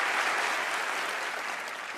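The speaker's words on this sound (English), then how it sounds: "And we'll give Allison a big round of applause." A TV magic show audience on Penn & Teller Fool Us applauds, a thick continuous roar of clapping that holds strong and eases only slightly toward the end.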